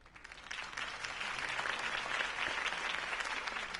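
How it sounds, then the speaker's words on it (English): A crowd bursts into sustained applause for a campaign speech, a dense, even wash of clapping that swells quickly and holds steady with no talking. "could have heard that applause"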